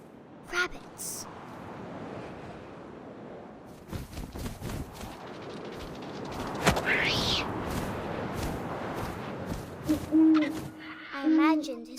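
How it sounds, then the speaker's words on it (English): An owl hoots in the video game What Remains of Edith Finch, heard over rushing wind and rustling. A narrating voice speaks throughout, and there are a few sharp thumps. "And suddenly, I was an owl."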